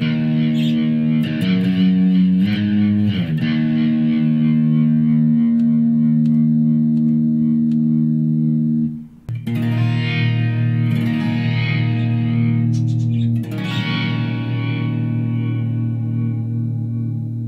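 Rotary speaker effect on a Behringer V-Amp Pro amp modeller, a loud, steady distorted electric guitar chord swirling and warbling as it sustains, with a brief drop near the middle before fresh strums ring out again.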